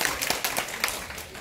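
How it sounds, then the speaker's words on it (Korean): Applause from a church congregation at a Bible-reading class closing gathering, a steady wash of many hands clapping at moderate distance for a short burst, with a few sharper claps standing out. "박수 한번 주세요."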